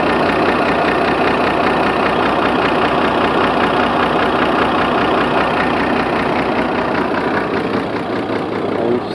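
A 1978 Mercedes-Benz 1519 truck with a 352 engine idles steadily up close, a continuous low diesel rumble with an even, slightly knocking pulse and no voices.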